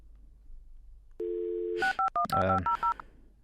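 An application plays a dial-up connection sound: a dial tone briefly, then a rapid run of touch-tone dialing beeps, clear and close with no talking.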